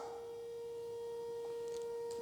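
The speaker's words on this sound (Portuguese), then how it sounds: "A sirene já está tocando." A steady, faint siren tone holds at one constant pitch throughout, distant and unbroken.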